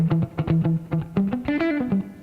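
Funky guitar arpeggios played with right-hand palm muting, short plucked notes in a steady, choppy rhythm with slight effects coloring, voice-leading chord changes stepping upward, close and alone without talking.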